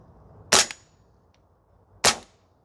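An APFG Sig Spear LT 11.5 gas blowback airsoft rifle fires two sharp, loud single shots about a second and a half apart on an outdoor range, each a crisp crack with a quick mechanical clack.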